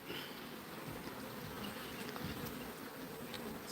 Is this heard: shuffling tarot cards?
no